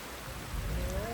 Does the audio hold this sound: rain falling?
yes